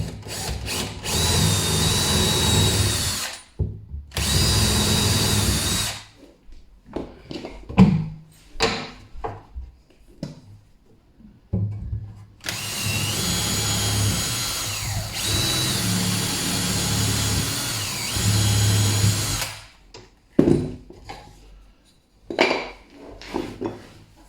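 Power drill boring through wood with a scrap block behind, in several loud sustained bursts of whirring, separated by quieter clatter and handling noises.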